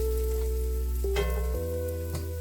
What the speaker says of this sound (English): We're just letting a little garlic sizzle around.